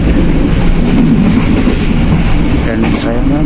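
Inside the business-class car of the Ranggajati passenger train, wheels clatter over rail joints in a loud steady rhythm beneath a low rumble, a faint squeal near the end.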